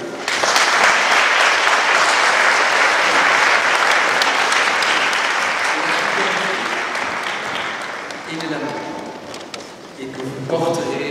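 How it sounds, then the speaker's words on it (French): Guests applaud a newly blessed couple at a church wedding ceremony, a loud, full round of clapping that fades after about eight seconds, with voices rising briefly underneath as it trails off. "On peut les applaudir."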